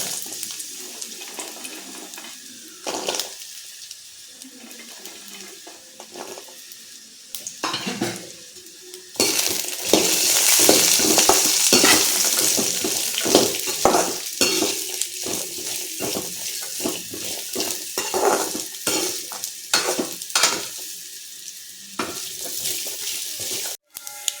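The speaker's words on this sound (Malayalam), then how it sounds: "നെയ്യ് ഒഴിച്ചിട്ടുണ്ട്. ഇതിലേക്ക് നമ്മൾ ചൂടായ ശേഷം ഈ തേങ്ങാക്കൊത്തിട്ട് കുറച്ച്" Coconut pieces fry in hot ghee in a pan for a Vishu payasam, giving a bright, steady sizzle that swells midway, broken by repeated scraping and stirring clicks.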